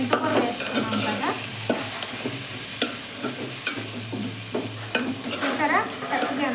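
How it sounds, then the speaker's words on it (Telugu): Chopped fenugreek leaves frying in a pan with potato, a dense continuous sizzle broken by frequent scraping stirs of a spatula. "ఇప్పుడు మనం మెంతుకూర శుభ్రంగా కట్ చేసేసుకొని ఇలాగ ఫ్రై చేసేసుకోవాలి"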